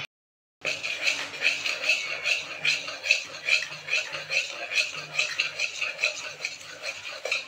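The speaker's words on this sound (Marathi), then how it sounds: "आता मस्तपैकी हे बेसन एकजीव करून घ्यायचं आहे पूर्णपैकी" Besan (gram flour) batter for boondi being mixed in a bowl, with a quick, regular series of wet stirring strokes and scraping clicks right up close after a brief silence, and a little background talk.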